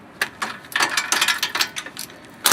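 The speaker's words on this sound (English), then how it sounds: "Get a wrench and take the backing nuts off of the brake" A wrench ratchets off the nuts holding a car's brake at the rear wheel, giving loud, close, rapid metallic clicks in short uneven bursts.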